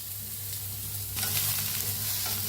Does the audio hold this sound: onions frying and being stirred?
yes